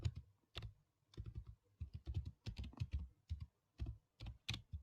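Python code being typed on a computer keyboard, with quick clustered keystroke bursts broken by short pauses, close and fairly quiet, with no voice over the clicking.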